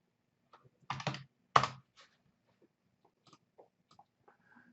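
A computer keyboard clatters in two short, close bursts of quick keystrokes, followed by a few sparse, faint taps in an otherwise quiet room.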